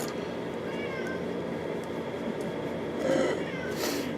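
A cat meows a few short, faint times indoors over a steady background hum, with a brief louder cry near the end.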